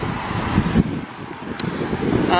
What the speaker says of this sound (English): The wind's horrendous and it's blowing this effing brolly everywhere